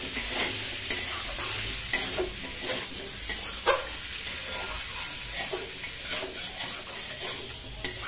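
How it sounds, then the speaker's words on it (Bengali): Masala for an egg and potato curry is stir-fried in white oil with turmeric water, a sizzle heard close up under repeated scraping strokes of a spoon across the pan, without speech. "সুন্দর করে আগে কষিয়ে নিচ্ছি"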